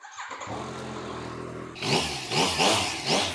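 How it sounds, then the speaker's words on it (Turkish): A Yamaha MT-09 motorcycle engine cranks briefly after an oil change, then catches and revs in a few rising bursts, loud and close. "motoru çalıştırıyoruz dostlar"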